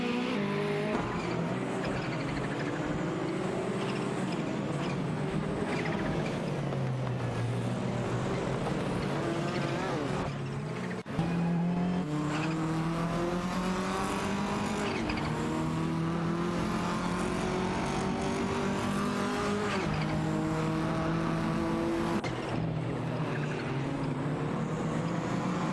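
Racing-game engines of a BMW M3 and a Mercedes-Benz 190 Evo drone and rise steadily in pitch together through gear changes, dense overlapping motor tones with a brief dip midway and continuous roar throughout.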